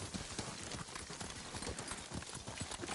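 Horses clip-clopping in the Ghost of Tsushima video game: a steady, busy patter of hoofbeats on the ground, fairly even in level and dense throughout, with faint background game ambience.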